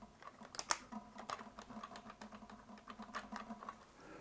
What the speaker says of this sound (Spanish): Sonido de llaves es una peculiaridad que le han puesto a este, a este programa